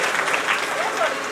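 Audience applause breaks out during a Shiv Mahapuran katha religious gathering, a steady wash of clapping over the whole short stretch, with voices faintly mixed in.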